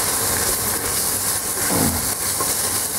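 Goulash meat and onions searing in a hot pot for a Christmas pot roast, giving a steady, close sizzling hiss throughout with no talking.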